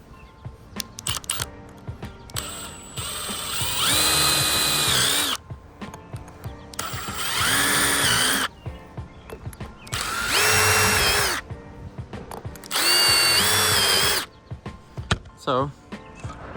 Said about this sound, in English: We'll flip and hold this thing down and start drilling.